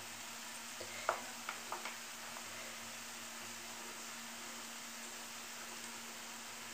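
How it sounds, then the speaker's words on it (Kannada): Onions deep frying in oil for onion gojju, with spice powders being added: a steady, even sizzling hiss throughout, broken early by a few quick spoon clicks against the pan. "ಈ ಥರ ಡೀಪ್ ಫ್ರೈ ಆಗಬೇಕು."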